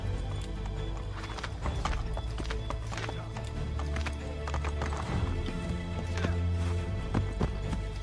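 Horses gallop in the Assassin's Creed III video game, with steady hooves clip-clopping over continuous low rumbling game ambience and an occasional neigh, moderately loud throughout.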